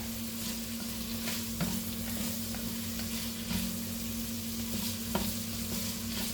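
Garlic frying in a pan while being stirred, with a steady close sizzle and occasional scraping knocks from the stirring and no voices.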